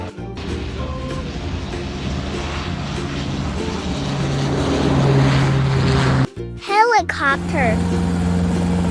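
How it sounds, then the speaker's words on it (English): An airplane sound effect for a children's vehicle vocabulary lesson: a loud, rising engine drone that builds steadily, cuts off abruptly, then returns with sweeping tonal whines. "Airplane."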